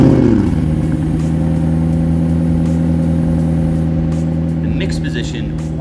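McLaren Elva sports car engine running loud and close with a steady mid-pitched idle that swells slightly into revs, filling the whole stretch.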